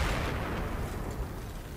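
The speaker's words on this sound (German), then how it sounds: "Boah, hier ist gerade was richtig hart explodiert, ey." A loud, dense explosion rumble in the video game Battlefield 4, sustained roar of blast and debris filling the whole stretch with steady low-heavy noise.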